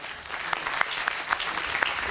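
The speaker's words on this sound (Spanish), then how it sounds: "Un fuerte aplauso para ella" Scattered applause from a small audience at a round-table panel in Burgos, fairly quiet, with a few sharper individual claps standing out over a soft continuous patter.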